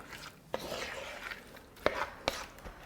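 Spices being mixed into karahi chicken in a pan, a few soft scraping stirs with sharp utensil knocks against the metal, fairly quiet and close.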